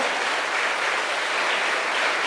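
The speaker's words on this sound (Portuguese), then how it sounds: "Eu posso ouvir um aplauso ao Senhor das suas mãos?" A church congregation in a Portuguese-language Sunday service claps for the Lord, a loud, dense, continuous roar of many hands with no pauses or talk.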